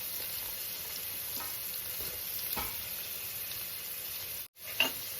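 Carrot and capsicum pieces stir-fry in a hot pan with a constant sizzle, a few spatula scrapes and a brief sharp clatter near the end, with nobody talking.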